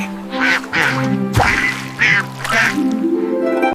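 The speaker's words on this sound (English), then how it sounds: "D is for duck." Loud, close duck quacks in a rapid series of several harsh calls, with no talk over them.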